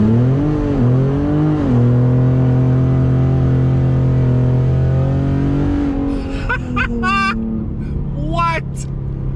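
A loud decatted 2019 Ford Raptor launches with traction control off, its engine droning and rising in pitch up close, followed by sharp repeated tire squeals from wheelspin.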